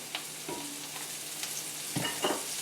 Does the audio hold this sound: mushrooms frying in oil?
yes